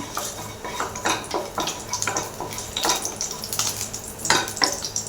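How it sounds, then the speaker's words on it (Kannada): Paneer keema fries in a pan with cumin, and the spoon clanks, scrapes and stirs in quick irregular bursts over a soft sizzle, close and moderately loud. "ಚೆನ್ನಾಗಿ ಫ್ರೈ ಆಗಲಿ ಚೆನ್ನಾಗಿ ಫ್ರೈ ಆಗ್ತಾಯಿದ್ದೀಗ"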